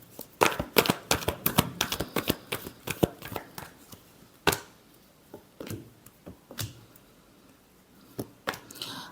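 Tarot cards shuffled by hand in a series of quick riffling bursts, close and crisp, clustered at first and then spaced into occasional single flicks with quiet gaps between.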